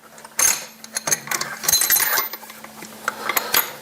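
Metal sockets from a mechanic's set clink and rattle as they are handled, with a quick run of bright, close metallic taps and jingles, some clustered together and others spaced apart.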